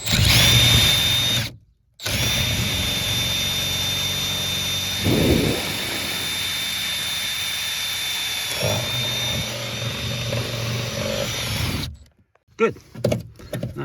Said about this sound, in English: I'm just gonna drill the hole through here.